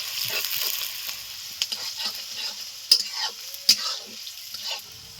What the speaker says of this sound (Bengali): পেঁয়াজগুলো লালচে করে ভেজে নিয়েছি